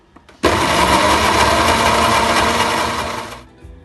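A food processor grinds hummus with chili flakes, a loud steady whirring motor drone that starts abruptly and runs for about three seconds before cutting off, with no voices.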